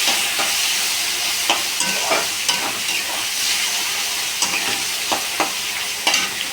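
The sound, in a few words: taro stolons (kochur loti) frying and being stirred in pan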